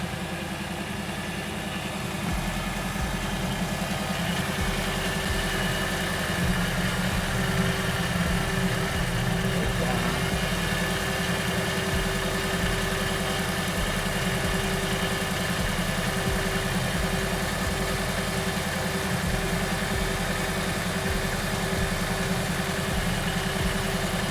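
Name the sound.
1987 Monte Carlo SS engine idling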